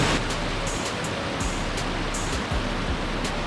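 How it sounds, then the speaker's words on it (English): Hidden waterfalls at Blue Springs near Putaruru, New Zealand, give off a steady, broad rushing roar of falling water, loud and close, with no voices over it. "I found the hidden waterfalls."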